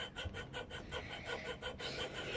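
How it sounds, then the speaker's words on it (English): A hand saw cuts through wood while making a peg pistol, with quiet, rhythmic back-and-forth rasping strokes about four per second, close and alone. "Just keep sawing"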